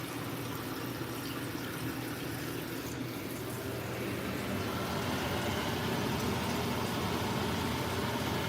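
Tap water runs steadily into a pot of beans, a soft continuous splashing hiss that grows slightly fuller as the pot fills, with no voices.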